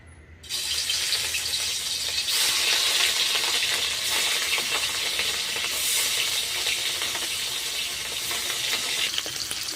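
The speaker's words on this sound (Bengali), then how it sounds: "এখন আমি দিয়ে দেবো মাছগুলো ভালো করে আমি ভেজে নেব" Rohu fish pieces dropped into hot oil in a wok burst into a loud, steady sizzle that starts suddenly after a brief quiet and carries on as a dense, continuous hiss, with no voices.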